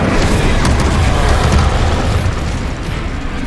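Incendio fire spell cast in Hogwarts Legacy, a steady, loud roaring burst of flame that holds for the whole few seconds and eases off slightly near the end.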